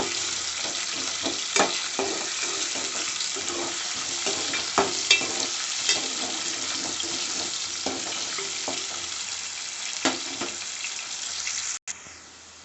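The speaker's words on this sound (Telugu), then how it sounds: "ఆనియన్ పచ్చిమిర్చి వేసుకున్నాక కొద్దిసేపు గోలనివ్వాలండి వాటిని" Sliced onions and green chillies fry in a pan while being stirred, a continuous sizzle broken by repeated spatula scrapes and taps, close and clear, with no speech.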